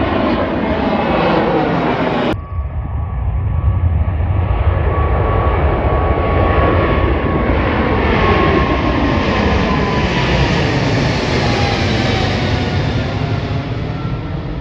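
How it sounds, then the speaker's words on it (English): Jet airliners taking off from the airport in Anchorage, a loud continuous engine roar that swells and sustains with a broad rumble, heard close and steady throughout. "we're going to watch some planes take off"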